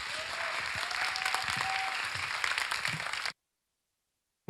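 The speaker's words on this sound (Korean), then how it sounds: "박수로 모시겠습니다" Audience applause in a church mission-week gathering, a steady wash of clapping from a crowd for about three seconds before it cuts off abruptly to silence.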